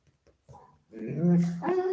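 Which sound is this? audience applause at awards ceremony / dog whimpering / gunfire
dog whimpering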